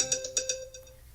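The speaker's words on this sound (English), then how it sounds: "Phone line's going crazy right now." A phone rings with a bright, repeating electronic tone, the short chimes pulsing several times before fading, close and fairly loud with no speech over it.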